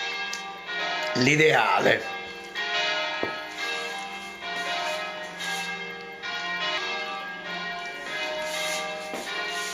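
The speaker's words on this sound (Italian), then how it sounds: "Oggi è domenica e quindi suonano le campane." Church bells ring on a Sunday in a steady series of tolls that carry through the whole stretch. Someone speaks briefly over the ringing near the start.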